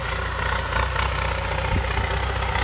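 A John Deere 6100B tractor with a seven-disc plough works a eucalyptus plantation, its diesel engine droning steadily and close with a low rumbling pulse and no talk.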